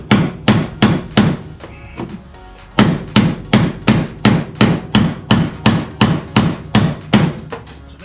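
Hammer blows ring out on a Chevy C10 square-body truck's thick steel seam, a loud, close series of about twenty sharp metallic strikes in quick bursts with a brief pause partway through.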